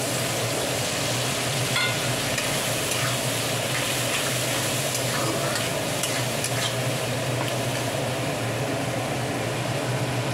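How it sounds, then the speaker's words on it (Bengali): A spice paste for khichuri with fried hilsa is stir-fried in a pan, giving a steady, loud sizzle with scraping stirs throughout and no talking. "দিয়ে একটু ভালো করে কষিয়ে নেবো"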